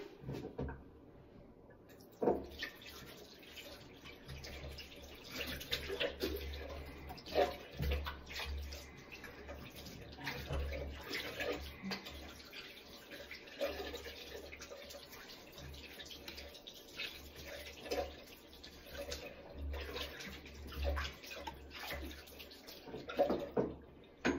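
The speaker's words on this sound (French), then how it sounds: "je vais me rincer les mains" A tap runs steadily as hands are rinsed of coffee-ground face scrub, a soft continuous splashing with faint drips and small knocks in a quiet room.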